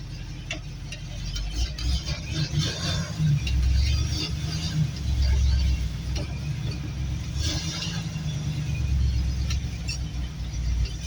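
An air-bagged lowrider GMC 6000 truck with no brakes drives along, its engine rumbling low and steady with squeaks and ticking rattles rising and falling, heard close from inside the cab.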